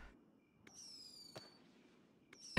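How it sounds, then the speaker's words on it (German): A firecracker going off in the video game Nevertales: several sharp, crackling bangs with brief fizzing tails, spaced about a second apart, ending in a loud final pop. "Knallfrosch."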